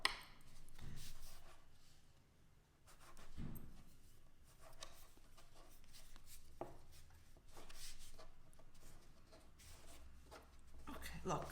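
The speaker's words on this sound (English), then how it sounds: "Now take your spatula and you're going to cut little pillows" Dull, scraping cuts from a spatula slicing soft pasta dough into small pillows in a kids' orecchiette-making class, several irregular strokes spread across the clip and mixed with people talking.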